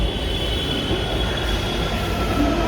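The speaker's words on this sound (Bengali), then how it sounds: "বাস 1 মিনিট পর পরই চলে আসবে মেট্রো" A metro train arriving, with a loud, steady rail rumble and a sustained high wheel squeal close by.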